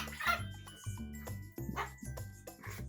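A cockatiel imitates a dog with a run of short barking and yipping calls in an uneven rhythm, heard close and fairly quiet, mixed with faint tinkling, and no voices.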